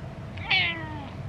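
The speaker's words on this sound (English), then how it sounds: "Is that a happy meow?" A single drawn-out cat meow, close and clear, rising then trailing off over about a second.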